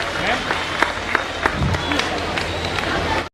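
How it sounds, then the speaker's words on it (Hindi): Applause from an audience at a school annual function: steady, dense clapping of a crowd sustained throughout, with scattered sharper claps standing out, cut off abruptly at the end. "जोरदार तालियां बजाइए।"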